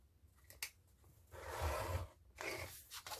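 Scissors snip through paper while trimming a Christmas mini album front page: a few short crisp cuts, then a longer slicing run, quiet and close with small handling rustles between.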